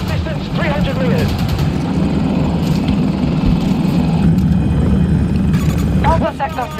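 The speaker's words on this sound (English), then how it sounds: "spotted enemy helo" Enemy helicopter in a Battlefield 2042 match, its steady rotor and engine drone running continuously and loud amid battle noise, with voice lines and radio chatter layered over it.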